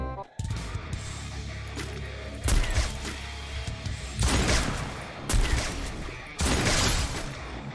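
Gunfire in the mobile battle game Free Fire, with bursts of rapid automatic shots recurring in several loud waves, plus sharp impact cracks and in-game mechanical noises.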